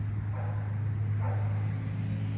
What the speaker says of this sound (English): There's some dogs in the neighbor's yard over there.